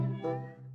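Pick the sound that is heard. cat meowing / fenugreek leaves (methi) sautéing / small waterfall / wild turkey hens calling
cat meowing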